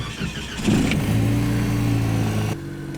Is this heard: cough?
no